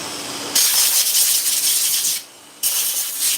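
A harsh, buzzing electric clipper with a freshly sharpened blade hums steadily while cutting, dropping off briefly midway and then resuming, close and fairly loud.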